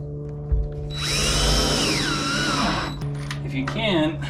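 A power drill drives 2.5-inch Torx screws into wall framing inside a cargo trailer, whirring loudly for about two seconds with a rising then falling pitch, followed by a shorter burst, with talk underneath.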